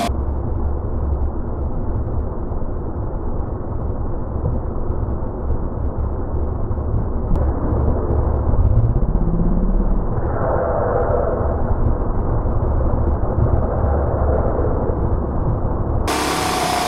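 A trailer wheel fitted with a Centramatic automatic balancer, loose BBs inside, spun up by machine: a continuous mechanical drone with a brief rising whine partway through as it gains speed, then a steady hum.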